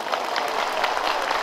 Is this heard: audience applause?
yes